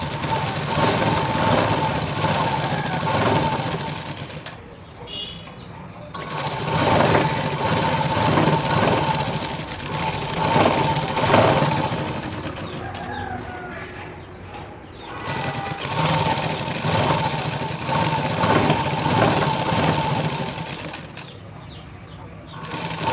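A sewing machine stitches the side seam of a blouse, its steady motor whirr running in long runs broken by brief pauses, with some background sound underneath.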